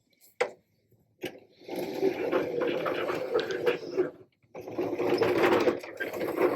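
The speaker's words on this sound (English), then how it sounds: "This is the Life Height Carpet Sweeper." A manual carpet sweeper rolls back and forth over carpet in bursts of whirring brush noise, with a couple of short knocks and brief pauses between strokes.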